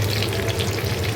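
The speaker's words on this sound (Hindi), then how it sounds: "ये तड़का हम बीच में डालेंगे" Spices for a tadka sizzle and crackle loudly in hot oil, a short, continuous frying hiss close up.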